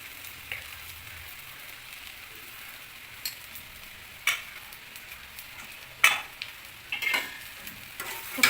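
Soaked poha being stirred into turmeric-spiced oil in a frying pan, a soft continuous sizzle with occasional sharp spatula scrapes and clinks against the pan, growing busier toward the end.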